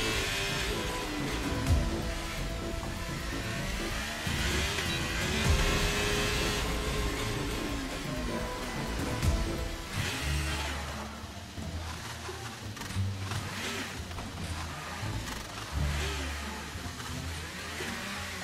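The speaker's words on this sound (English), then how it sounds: "That's how I do a three-point turn in the McLaren." A McLaren Formula 1 car in F1 23 makes a three-point turn, its engine whining and revving continuously at close range. The pitch shifts up and down as the car reverses and pulls forward again, with no one speaking.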